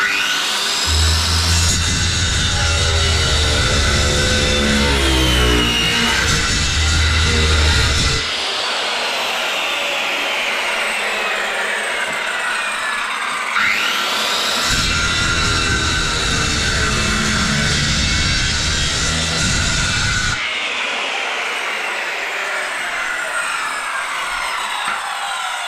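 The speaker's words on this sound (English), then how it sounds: "So I'll get my skill saw, run through that. So we'll just cut through the stud." Circular skill saw cutting through a wooden wall stud in a shower niche, a loud whining motor in several long bursts, with the pitch dropping as the blade bites in and rising again between cuts.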